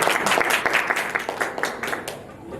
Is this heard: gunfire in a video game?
no